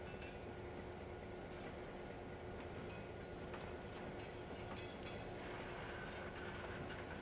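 Train rolling along rails in the Trainz Simulator game, a steady loud rumble of wheels with faint clickety-clack and occasional metallic squeaks, continuous throughout with no talking.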